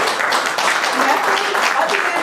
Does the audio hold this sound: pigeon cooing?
no